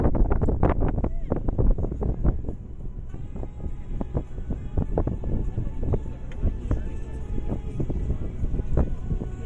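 A tour boat cruises on the Vistula river near Sandomierz, its steady engine rumble and wind buffeting the microphone heard close and continuous, with a tour guide talking over it.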